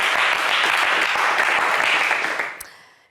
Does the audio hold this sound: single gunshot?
no